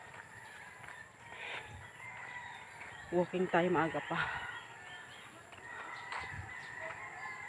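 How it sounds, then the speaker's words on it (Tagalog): Roosters crow loudly in a short burst of repeated calls, with a person talking quietly before and after amid faint outdoor background noise. "Ingay ng manok, ano?"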